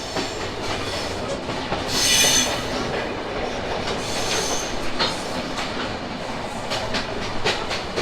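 The Ruposhi Bangla Express train, running between Dhaka and Benapole, rolls steadily along the tracks with a continuous rumble and rattling wheel noise, plus a brief louder screech of metal partway through.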